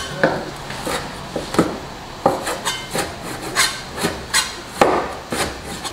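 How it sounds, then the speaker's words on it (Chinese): A kitchen knife cuts pork belly on a wooden board, giving a dozen or so close, firm thuds in a loose, fairly steady rhythm, with faint scraping in between and no talking. "切点五花肉啊"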